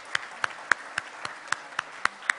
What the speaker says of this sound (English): We can applaud now.